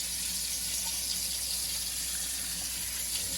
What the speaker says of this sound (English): then I will turn on the hot water and make sure it's hot.